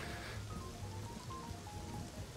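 Steady rain falls in a roleplay video game, a dense even patter on surfaces that continues without pause.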